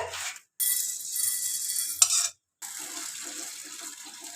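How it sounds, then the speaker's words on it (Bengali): Water pours from a tap onto lentils (dal) in a kitchen, a steady close splashing stream in two runs with a brief stop between them, no voices. "ডালে আমরা জলও দিয়ে দিচ্ছি"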